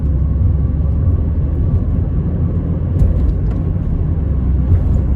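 A car accelerating at full throttle, heard as a loud steady low engine and road rumble from inside the cabin, droning evenly throughout.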